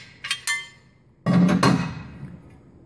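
Steel pallet rack parts clink and clank as a beam connector is fitted onto an upright post: two light metallic taps, then a heavier clunk with a short rattle, close and with no talk.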